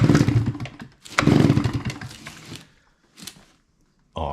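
A Stihl chainsaw is pull-started cold, with rough bursts of engine noise that sputter, cut out and briefly catch again, close and loud.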